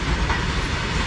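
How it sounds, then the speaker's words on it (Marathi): A long freight train loaded with stones rolls past close by, a loud, steady rumbling roar with a constant rush and no pauses. "मालगाडी ना, केवढी मोठी आहे बघ."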